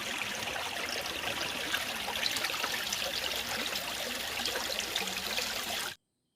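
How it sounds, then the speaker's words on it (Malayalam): A small stream in Kerala flows past with a steady, close, bubbling trickle of water that runs continuously before cutting off abruptly near the end. "തോടങ്ങനെ വന്ന് ഇങ്ങനെ ഒഴുകി അങ്ങ് പോകും"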